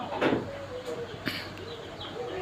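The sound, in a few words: quails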